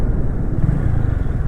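A motorcycle rolls off the throttle on a bumpy road, giving a loud, close, low engine rumble that stays steady without revving.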